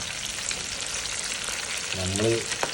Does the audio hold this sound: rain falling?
no